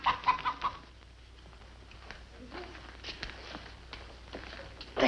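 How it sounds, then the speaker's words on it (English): A hen clucks in a few short bursts at the start, falls quiet through a low background, then clucks again at the end, fairly close and not very loud. "The hen that lays golden eggs"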